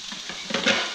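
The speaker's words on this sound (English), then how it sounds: "So, got that frying, pasta's almost done." A brief burst of food sizzling and crackling in a hot pan, steady hiss with a few sharper pops, fairly close.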